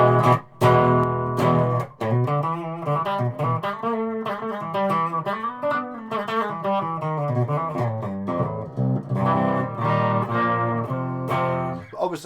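An Ibanez GIO GRGR010LTD electric guitar rings out through a distorted tone, with sustained chords and riffs played loud and close, no talking over it.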